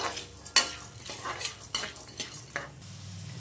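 Peanuts and roasted gram toss in a pan for a spiced puffed-rice snack, a spoon scraping and stirring in several distinct close strokes with light sizzling between them, no talking.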